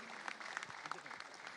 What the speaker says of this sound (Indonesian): Beri tepuk tangan dan semarak yang meriah Bapak Ibu.